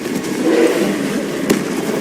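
A Confringo spell blast from the Hogwarts Legacy video game: a dense, steady roaring burst with a sharp crack near the end, heard alone with no talking.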